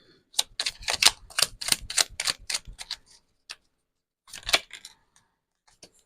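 A tarot card deck being shuffled as a quick close burst of crisp riffling snaps, followed after a pause by a shorter flurry and a few faint taps.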